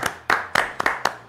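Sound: clapping

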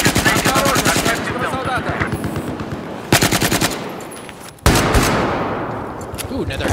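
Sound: Desert Eagle gunfire in video game Battlefield 4

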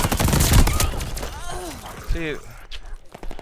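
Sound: Volkssturmgewehr assault rifle gunfire in Call of Duty video game

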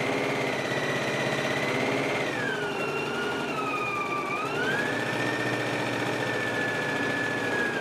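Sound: sewing machine stitching a jumpsuit leg seam

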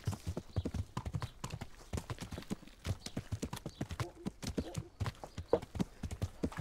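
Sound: horse hooves while riding in video game Kingdom Come Deliverance

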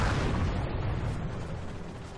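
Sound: explosion in the video game Halo 3 ODST

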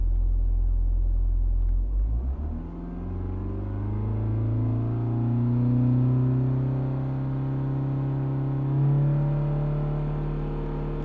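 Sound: Ford Mondeo TDCI 2.0 diesel engine being revved

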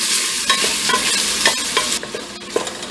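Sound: Andouille-style sausage frying in a pressure cooker

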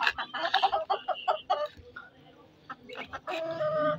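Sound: chickens clucking while being fed

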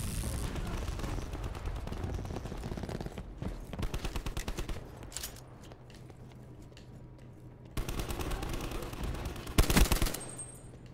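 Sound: new gun firing in Call of Duty Black Ops 4 video game

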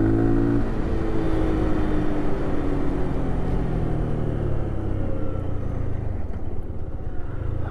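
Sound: Lifan KPR 200 motorcycle being ridden

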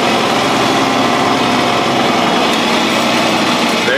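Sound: John Deere 4020 tractor engine running

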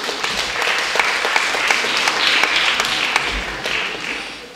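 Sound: audience applause at award ceremony

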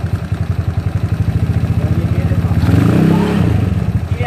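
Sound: SSR Interceptor 150 (ZNEN ZN150T-9) scooter engine revving to 3,000 RPM

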